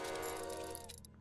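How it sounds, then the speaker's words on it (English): Train passing in the game Limbus Company: a steady, loud rumble with a tonal hum from a passing train, ringing on and then easing off near the end. "That was a train."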